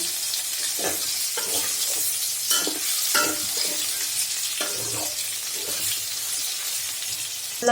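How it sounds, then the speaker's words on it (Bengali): Close, continuous sizzle of pointed gourd (potol) frying in a pan, with repeated scraping strokes and soft clatter as the pieces are stirred and moved around. "দেখেন আমার পটল ভাজা প্রায় হয়ে গেছে"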